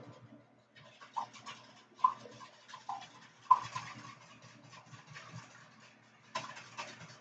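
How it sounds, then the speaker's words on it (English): Eggs lightly whisked in a bowl to break the yolks, a faint, irregular run of soft scratchy strokes and clicks, close but quiet. "And we're just going to lightly whisk."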